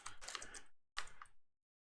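Fast clattering keystrokes on a computer keyboard while entering code, in two close bursts separated by a short pause, heard alone at low volume.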